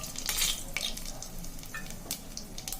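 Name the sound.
cinnamon, cloves and bay leaf frying in oil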